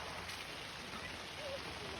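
Steady rain falls at a rock-hounding dig site on Graves Mountain in Lincolnton, Georgia, a constant faint hiss with no breaks.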